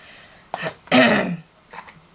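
A short, raspy throat clearing close by, with a strong rough burst in the middle and softer scrapes before and after.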